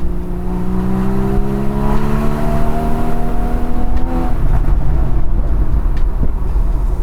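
Porsche 981 Boxster Spyder engine revving loudly from inside the car, tone rising steadily and holding, then giving way to a rough, steady engine roar with road noise.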